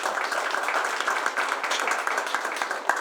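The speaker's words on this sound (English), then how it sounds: "how about a round of applause" Applause from a crowd at a City of Tampa event marking the 65th anniversary of the Bay of Pigs, a dense and steady patter of clapping that carries on throughout.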